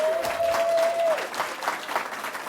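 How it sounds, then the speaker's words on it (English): Audience applause greets YWCA Halifax as winner of the Digital Inclusion Community Champion of the Year Award at the 2024 Nova Scotia Digital Inclusion Awards, a steady, fairly loud wash of clapping with a sustained tone early on. "let's give a hearty round of applause to YWCA Halifax"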